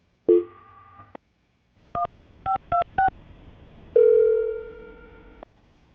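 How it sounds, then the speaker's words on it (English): A telephone number is dialed on a phone: a short tone, then a quick series of separate beeps, and a longer steady tone at the end, clear and close with no voices. "So I'm about to dial it right now."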